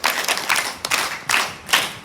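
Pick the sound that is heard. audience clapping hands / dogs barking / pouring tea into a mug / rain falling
audience clapping hands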